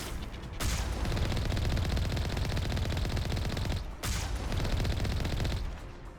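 Sustained automatic gunfire from a video game rattles loud and dense in two long bursts, with a brief gap just after the fourth second; no talk over it.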